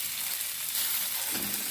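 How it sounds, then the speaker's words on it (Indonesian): Ground spice paste of pepper, coriander and candlenut sizzles and fries in a pan for buntil taro leaf broth, a steady close hiss with no talking. "ini saya akan tumis bumbunya yang sudah dihaluskan tadi"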